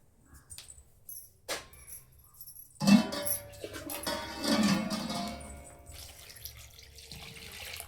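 Cold tap water for pickle preparation runs into a container in a kitchen, a few faint knocks and clinks first, then a splashing gush for a couple of seconds that trails off into trickling.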